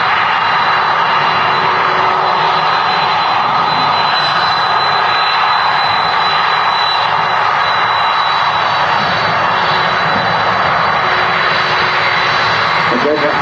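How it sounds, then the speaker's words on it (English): An Airbus A330neo jet holding beside the runway at Manchester Airport, a loud continuous engine roar and whine that stays steady. Radio-style talk runs over it. "next to the car, beside the runway, is the Airbus A330neo"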